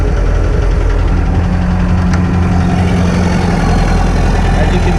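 A diesel engine idles nearby, a loud, steady low rumble with a faint knocking texture and constant vibration throughout.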